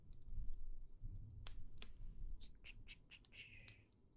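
A relaxing bird-song ambience track sets scattered chirps and short squawking calls, some repeated in quick bursts, over a low, soft background rumble.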